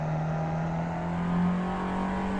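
A Ford Fiesta XR2 engine drones steadily under full throttle on the Tsukuba circuit, a close, sustained mid-pitched hum rising slightly through the short stretch, with no speech.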